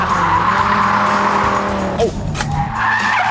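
Tires squeal and skid loudly as a car is thrown into a handbrake turn on a track, the engine droning underneath the screech from start to finish.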